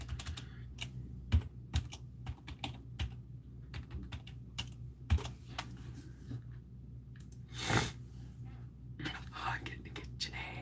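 A computer keyboard being typed on, probably entering a password, in quick light clicking bursts at close range, with soft whispery breaths and murmurs between the keystrokes.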